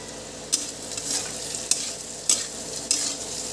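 Red lentils fry with turmeric in a pan with a steady soft sizzle, broken by several sharp scrapes of a spatula stirring at irregular intervals, heard close up.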